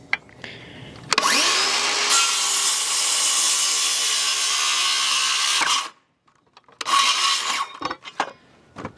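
A saw cuts through a wooden deck stair board in one long, steady, loud rasping pass, then stops abruptly; a few shorter scraping and knocking sounds follow.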